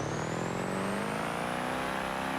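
A loud, steady diesel drone from an 18-liter V8 swapped into a police car in BeamNG.drive, pitch slowly climbing as the engine winds up, with a thin high whine riding on top and no talk.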